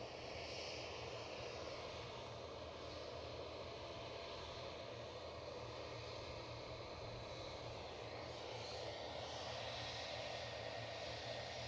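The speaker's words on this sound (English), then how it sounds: "our first 757 departure of the show. Off to New York, Newark. That RB211 Concerto ready to sing up." A Boeing 757 with Rolls-Royce RB211 engines takes off at Edinburgh Airport, heard from a distance as a steady, faint, broad jet roar that holds evenly throughout, with no voices.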